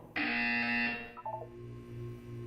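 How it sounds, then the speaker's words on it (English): A buzzer in the Portal 2 video game sounds one loud, steady electronic tone for just under a second, then a few short chirping blips follow over a low ambient hum, with no speech. "When you hear the buzzer, look down at the floor."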